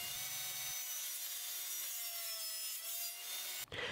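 A wooden piece for a cross is cut with a saw, giving loud continuous raspy sawing that holds steady for several seconds before stopping abruptly near the end.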